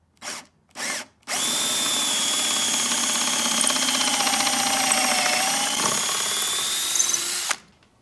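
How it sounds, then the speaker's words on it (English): Power drill boring holes through a jig while upgrading a table in an Airstream Flying Cloud RV, two brief trigger blips followed by one loud, sustained whine of about six seconds, close by, that drops in pitch slightly under load. "every time I go to drill a hole for that jig"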